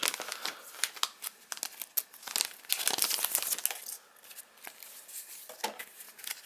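Paper documents and an envelope rustle and crinkle as they come out of an Apple Magic Trackpad, Magic Mouse and keyboard box, a close, continuous crumpling with sharper crackles and no voice.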